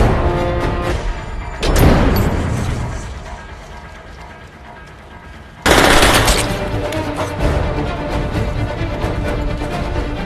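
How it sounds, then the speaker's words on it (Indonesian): Rapid gunfire bursts in a film shootout between FBI agents and Triad fighters, dense automatic rattling with two sharper loud volleys and mechanical clatter, heard without speech. "Film diawali dengan aksi baku tembak dua anggota FBI"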